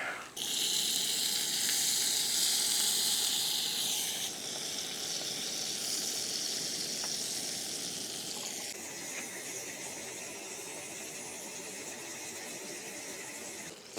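Sausages fry in butter in a pan at an outdoor cook-up during a solo hike in the Peak District, giving a loud, steady, close sizzle that hisses without a break from start to finish, with no talking.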